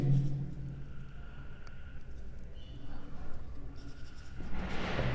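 Chalk or marker writing equations on a classroom board during a physics lecture, a faint steady scratching under quiet room tone, with a louder stroke near the end.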